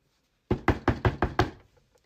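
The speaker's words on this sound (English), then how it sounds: "And then, bitch, I hear a knock at the door." Six heavy, evenly spaced knocks on a door, loud and close, then silence.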